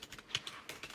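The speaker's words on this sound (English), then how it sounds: "you can just upload your photos and start typing" A computer keyboard clicks under irregular keystrokes, soft and close, in a short quiet burst with no voices.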